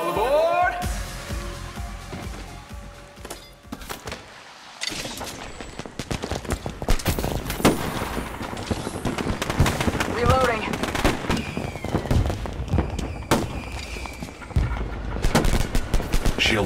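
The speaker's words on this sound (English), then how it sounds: "I'm spotted, taking fire." Gunfire from the battle-royale game Apex Legends Mobile, with bursts and rapid shots crackling almost continuously through a dense mix of game effects, under frequent in-game voice lines.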